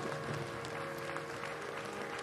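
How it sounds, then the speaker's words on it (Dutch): A crowd at a 75th anniversary commemoration of the Battle of the Bulge applauds with a steady, faint wash of clapping heard from a distance, with a low hum running underneath. "Ze krijgen applaus"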